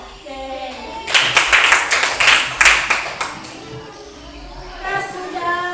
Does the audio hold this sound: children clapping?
yes